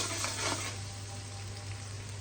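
Chopped onions frying in a pan while a spiced liver bhuna is cooked, giving a steady, close, moderately loud sizzle and crackle throughout with no talking.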